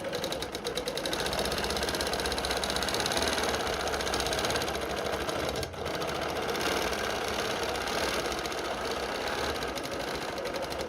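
A sewing machine runs steadily, stitching together pieces of a peppermint pinwheel and ribbon candy quilt. Its dense, continuous mechanical whir holds close and loud throughout, with one brief dip near the middle.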